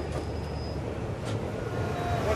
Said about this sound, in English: And now we're meeting the regional, the other passenger train that goes to Chihuahua.